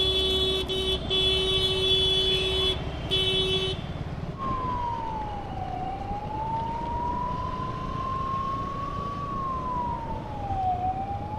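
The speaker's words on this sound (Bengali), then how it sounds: "ভাই অ্যাম্বুলেন্সটা তো এখনও ফাঁকা ফাঁকাই যাচ্ছে, মানে রাস্তা ফাঁকা পাচ্ছে" An ambulance siren sweeps through a long, slowly rising and falling wail as it passes along the road, loud and steady over traffic noise, following an earlier electronic alarm-like tone.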